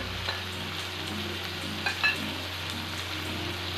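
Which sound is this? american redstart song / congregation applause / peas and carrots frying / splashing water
peas and carrots frying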